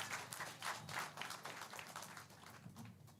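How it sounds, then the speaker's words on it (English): Faint round of applause from a youth gathering at a people's parliament event with the President, a distant, uneven patter of clapping that swells and fades slightly, quiet with no talk over it. "Viva Velmeri, give her a round of applause"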